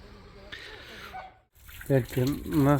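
Water runs and splashes into a bucket for a moment, then stops, followed by a person talking nearby.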